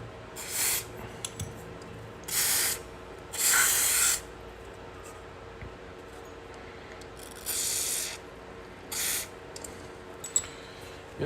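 Lubricant is sprayed onto a surface in six short aerosol bursts of a second or less, each a sharp close hiss separated by quiet gaps, with a few faint clinks in between.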